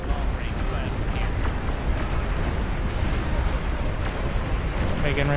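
Long-range plasma cannon fire in the real-time strategy game Beyond All Reason, a dense, continuous barrage of booming blasts and rumbling impacts filling the whole stretch with no pause.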